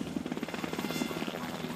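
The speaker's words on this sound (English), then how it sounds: "The sky was literally filled with helicopters everywhere." Helicopter in flight, its rotor blades thumping in a fast steady rhythm over a constant engine whine, fairly loud and close throughout.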